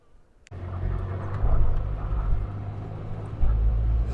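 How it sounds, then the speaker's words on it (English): A car drives uphill on Jacob's Ladder, a steep road near Launceston, Tasmania. Its engine rumbles low and steady from close inside the cabin, starting abruptly after a brief quiet moment and swelling at times as the climb goes on. "So we're going to go and drive up there, right to the top"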